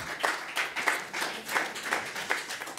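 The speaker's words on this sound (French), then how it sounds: "Je pense qu'on peut applaudir déjà." Audience applause at an open source technology conference, heard as a thin, moderately faint patter of claps with periodic louder swells, no voices.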